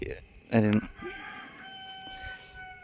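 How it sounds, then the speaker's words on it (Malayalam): A rooster lets out one short, loud crow close by, then a quiet background with faint steady tones. "അപ്പുറത്ത് കോഴി"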